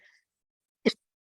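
A single short, sharp cough in an otherwise quiet room, close to the microphone.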